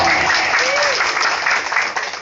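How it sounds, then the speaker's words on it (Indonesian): A crowd at a gubernatorial campaign rally applauds, a dense, loud, steady wash of many hands clapping, with a brief voice rising over it. "Tepuk tangan sekali lagi yang meriah dong."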